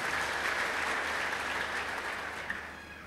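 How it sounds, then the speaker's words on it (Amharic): A church congregation applauds at a sermon on the blood of Jesus Christ, a dense, steady wash of many hands clapping close by that fades slightly toward the end, with no talk over it. "አጨብጭቡና ተቀመጡ።"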